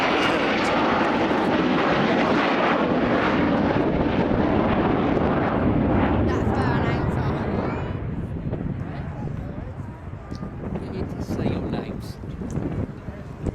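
An Avro Vulcan XH558 delta-wing bomber with its bomb bay open flies over the 2015 Throckmorton airshow, a loud broad jet roar that peaks early, then fades after about eight seconds, with wind buffeting and faint background voices.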